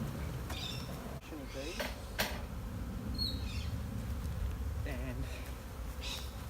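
A honeybee swarm being moved into a hive buzzes steadily and close throughout, a dense insect hum with a few louder passes, while people talk briefly over it.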